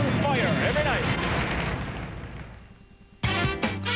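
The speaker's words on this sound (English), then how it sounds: "Musical score, fireworks, lasers, fountains, and fire every night." Fireworks burst in rapid, overlapping booms at the Epcot Illuminations nighttime show over World Showcase Lagoon at Walt Disney World, loud and continuous with a musical score, before fading and giving way to other sound.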